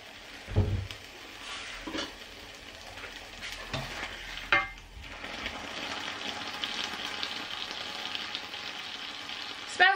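An egg and crumpet mixture with pepper and ketchup fries quietly in a pan, giving a soft continuous sizzle broken by a few scraping stirs and clatters.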